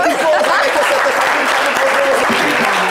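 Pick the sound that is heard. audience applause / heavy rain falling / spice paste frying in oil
audience applause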